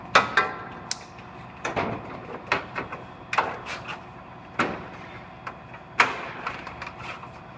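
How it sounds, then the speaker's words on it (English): Sharp intermittent clanks and snaps as clamps are loosened on an aluminum door skin of a Ford F-150 in a collision repair shop, irregular close knocks and metallic clicks separated by quiet gaps. "So I'm gonna take these clamps loose."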